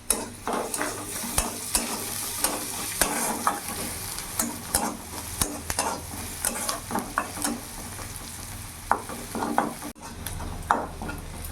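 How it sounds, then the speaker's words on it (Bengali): Onion and garlic fry vigorously in a pan, a loud sizzling hiss broken by repeated scraping and stirring strokes and crackling pops throughout, close up with no talking. "পেঁয়াজ রসুনটা ভালো করে ভাজা হয়ে গেছে"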